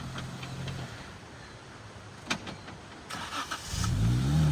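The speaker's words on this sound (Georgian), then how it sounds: "აი ესეთი რაღაცები იცის მექანიკურმა გადაცემათა კოლობმა. ხან ჩაგიქრება, ხან არა." Jeep Wrangler Rubicon with a manual gearbox stalling, engine idling and then cutting out with a couple of sharp clicks, followed by the engine being restarted and revving loudly at the end.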